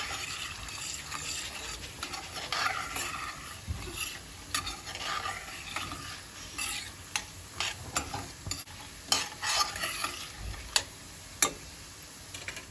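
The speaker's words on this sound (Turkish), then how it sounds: "Önce şöyle şehriyeleri kavuralım güzelce." Vermicelli roasts in a pan while a spoon stirs it, giving a light crackling sizzle broken by sharp irregular scrapes and taps against the pan, close and without talk.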